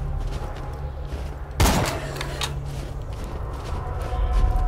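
A single sharp gunshot bursts out in the Borderlands 2 video game over a low steady background hum, followed by fainter mechanical clatter and a swelling rumble near the end.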